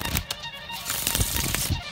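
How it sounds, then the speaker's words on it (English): A deck of Rose Gold Gator Back playing cards is riffle shuffled up close, giving a crisp, fast flutter of snapping cards that runs for about two seconds with no talk. "You can even hear on the riffle shuffle."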